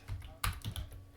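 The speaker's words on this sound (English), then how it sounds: "if I'm typing something" Typing on a computer keyboard, heard as a few quick soft key clicks close by with one sharper tap in the middle, over quiet room noise.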